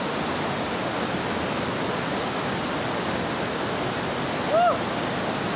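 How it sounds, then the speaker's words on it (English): A waterfall in Barrington Tops National Park roars as a steady, dense wash of falling water, loud and continuous throughout, with a brief faint whistle-like sound near the end. "Pretty spectacular waterfall here."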